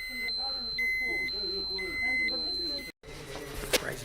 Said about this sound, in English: You can hear the beeps in the background, that's the Geiger counters going mental.